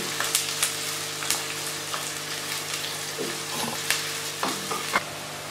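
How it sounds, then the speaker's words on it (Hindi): Sliced onions fry toward a light brown for chana dal, making a steady sizzle broken by frequent bright crackles and spatters, close and moderately loud. "अब प्याजों को मैं तकरीबन थोड़ा सा ब्राउन करूँगी,"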